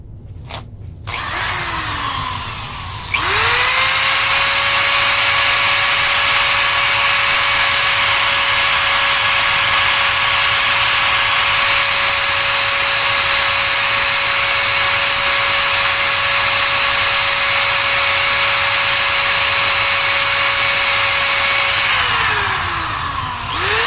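Power tool scrubbing rust off a Kirby Sentria vacuum part, spinning up after a brief start and holding a loud, steady, high whining grind for about twenty seconds before winding down.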